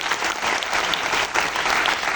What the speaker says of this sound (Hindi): उनके लिए एक बार जोरदार ताली बनती है सर